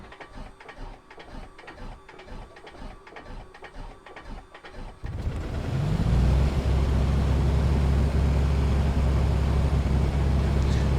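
A Piper Comanche 250 light aircraft engine in a flight simulator cranks in rapid clicking pulses for several seconds, then catches and settles into a loud, steady, droning run.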